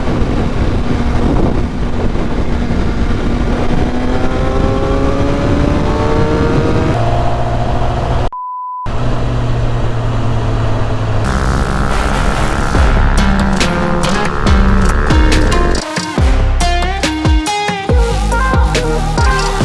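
A Suzuki GSX-R750 motorcycle engine revs hard while riding, loud and close with rising and falling pitch sweeps, heavy wind buffeting over the mic, and a brief dropout midway before sharper gear-change revving.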